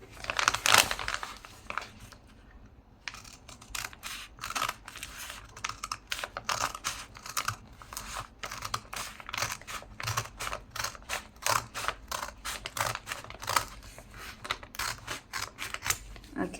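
Scissors snip and crinkle through a recycled kitty bag being cut up for a junk journal cover, a run of close, quick crisp cuts and rustles with a few brief pauses.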